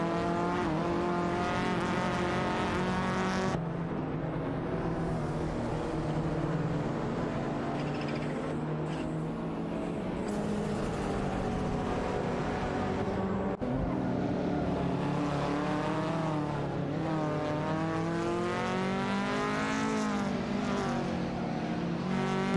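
Racing video game engines from a 1993 Supra and a 1994 Golf, loud sustained revving with rising and falling gear changes, several cars droning together continuously up close.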